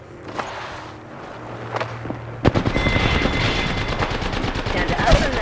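Shooter video game gunfire, with a few scattered shots at first and then a sudden sustained burst of rapid automatic fire mixed with impacts and footsteps, loud and close.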